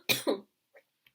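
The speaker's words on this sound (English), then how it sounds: "I am so sorry for coughing through your reading." A woman coughs twice in quick succession, close and fairly loud, followed by two faint little throat sounds and then quiet.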